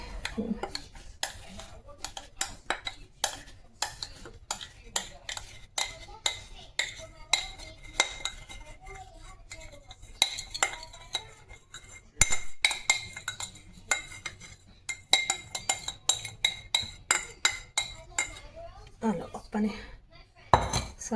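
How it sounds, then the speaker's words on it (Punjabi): Barfi mixture with milk powder being stirred in a pan, a spoon repeatedly scraping and clinking against the metal in a steady, close rhythm for the whole stretch, with no talking. "ਹੁਣ ਮੈਂ ਚਲਾ ਰਹੀ ਹਾਂ"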